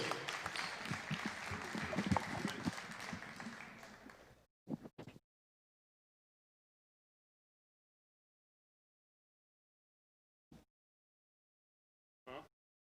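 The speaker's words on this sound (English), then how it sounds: "How about one more round of applause for our class of 2021 graduating senior basketball team members" An audience applauds a graduating senior basketball team with a steady burst of clapping that lasts about four seconds and then stops. Only a few brief, quiet sounds follow in near silence.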